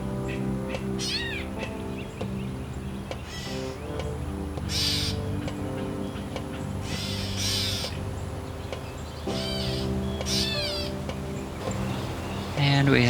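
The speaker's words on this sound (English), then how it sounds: "They kind of sound like cats." Cat-like mewing calls from a catbird in a backyard, a few scattered downslurred mews ringing out over a steady hum and other bird chatter, moderately near.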